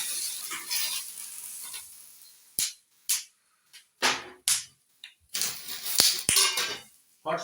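Spices frying in hot oil in a pot, with cardamom and bay leaf hitting the pan: bursts of sizzling and crackling come in short separated spurts, with sharp clinks of a utensil against the pot.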